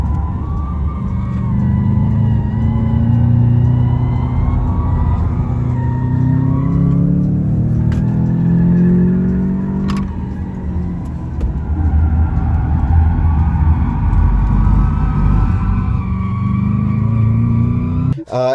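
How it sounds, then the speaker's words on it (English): A Lucid Air electric car drifting sideways around a proving ground, with a loud continuous tire and motor whine rising and falling over about eighteen seconds. "Can you insert the clip of us drifting it around the proving grounds?"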